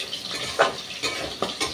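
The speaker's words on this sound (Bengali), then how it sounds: "এইদিকে মাছ ভাজা বসিয়ে দিয়েছি" Fish frying in a pan, a soft continuous sizzle and crackle broken by a few light scraping or tapping touches, close and fairly quiet with no talking.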